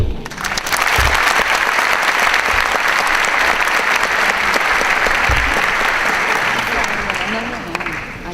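Loud, sustained audience applause welcoming a string quintet from the João Pessoa string orchestra onto a stage at a jubilee event, dense clapping swelling and holding for several seconds before easing off.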